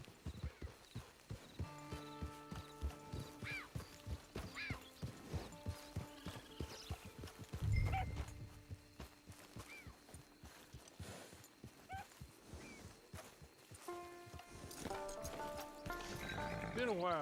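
Horse hooves clip-clopping at a steady walking rhythm in the Western video game Red Dead Redemption 2, with a whinny partway through, while game music plays and people talk throughout.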